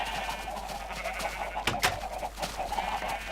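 Minecraft chickens clucking in a game world, a few soft bird-like calls over a low steady background hum, with one louder squawk in the middle.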